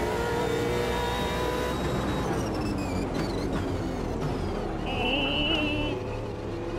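A race car in the sim racing game Automobilista 2 pushes hard on the final lap, its engine droning loud and steady with rising and shifting pitch as it accelerates, with no talking.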